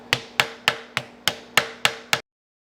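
Eight sharp, evenly spaced hammer strikes peening a metal part of a 103-year-old Hunter Arms Fulton shotgun, each ringing briefly before the next, close and clear with no talk.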